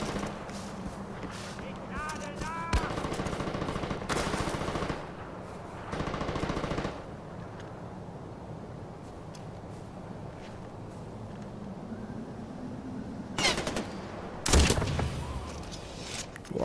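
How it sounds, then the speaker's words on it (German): Shots from a bolt gun in the game Far Cry 4, several sharp loud bursts spaced across the stretch, mixed with other gunfire and a low engine-like drone, with a voice talking in between. "Kopfschuss mit dem Bolzengerät"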